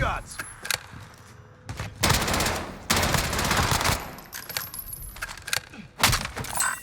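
Bullfrog submachine gun fire in the Season 5 Warzone shooter, bursts of rapid automatic shots in several bursts, loud and close, with game effects and short spells of talk between them.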